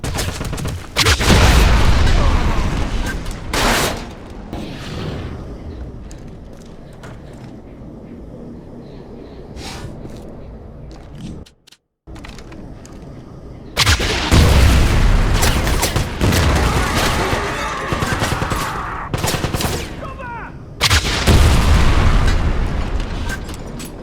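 Panzer weapon fire in the 2009 video game Wolfenstein: several heavy booming blasts, loud and close, separated by quieter rumbling lulls and debris, with a short silent gap midway.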